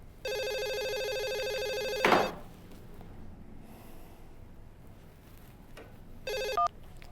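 A telephone rings with a loud electronic tone lasting about two seconds, followed by a sharp breathy snort, then a short second burst of ringing near the end.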